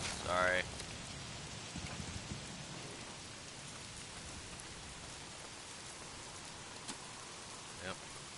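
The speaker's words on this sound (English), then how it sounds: "Dang, still raining." Heavy rain falls steadily in the video game Days Gone as a dense, even hiss. Brief clicks and small thuds break through it, and there is a short louder sound at the start.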